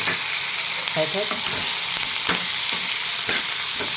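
A ground spice mix poured into a hot pan sizzles steadily while being stirred, with a continuous bright hiss broken by a few soft scraping and clinking stirs, close and alone without talk.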